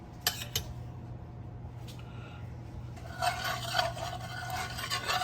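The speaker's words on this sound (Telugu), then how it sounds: "సో ఫస్ట్ దోశ వేసేదానికి మనం దోశ పెనం పెట్టుకుంటాము" A dosa pan clatters onto a home stovetop with two sharp metallic knocks, then a scraping, rubbing sound runs on under a steady low hum, all quiet and close.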